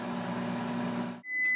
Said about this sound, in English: let's just microwave it for a bit more